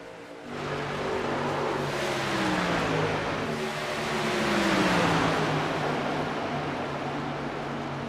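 Race cars roaring around a track after the green flag drops, a dense, sustained engine drone with rising and falling pitch sweeps as cars pass, steady and loud throughout without talk.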